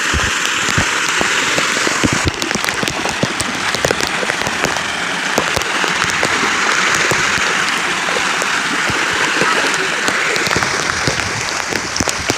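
Heavy monsoon rain drums on the roof and windows of a car, a dense, loud, continuous patter of drops heard from inside the vehicle with no voices.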